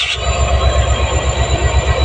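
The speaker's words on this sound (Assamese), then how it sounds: "এইটো ট্ৰেইনখন" A Janshatabdi Express train rolls along the rails near North Lakhimpur, a loud, close, continuous rumble with rhythmic wheel thumps and a steady high hiss above.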